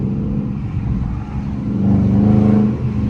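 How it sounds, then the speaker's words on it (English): A Dodge Charger R/T's engine, heard from inside the car while it is driven through the city, drones and then climbs in a loud rev as it downshifts from second gear. "I'm gonna let y'all hear this downshift real quick."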